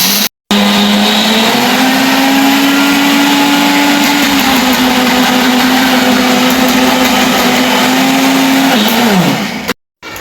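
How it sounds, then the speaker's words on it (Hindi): An electric grinder whirs loudly and steadily through dry fruits for about nine seconds. Its motor whine holds a constant pitch, then drops as it winds down, with short silent gaps at the start and end. "अब इसको करेंगे ग्राइंड। शोर ज़्यादा है इसलिए यहाँ से करेंगे स्किप भी।"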